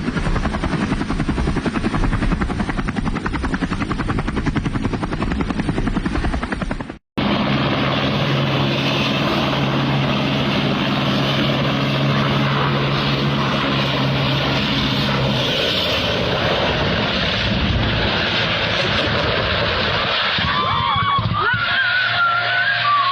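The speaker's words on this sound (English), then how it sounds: "This Cessna 172M emergency landing went terribly wrong when the aircraft struck a hangar at Buttonville Airport" A Cessna 172M light aircraft engine drones steadily during an emergency landing at Buttonville Airport, a loud continuous propeller hum that cuts out briefly and then resumes with rough, noisy wind and airframe sound.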